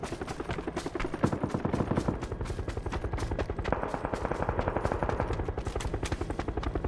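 Rapid bursts of automatic PUBG gunfire on the Taego map rattle on continuously, loud and steady, with no talking.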